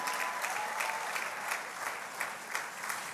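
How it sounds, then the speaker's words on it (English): A church conference audience applauds continuously, a steady dense patter of many hands clapping at moderate volume. "Clap your hands."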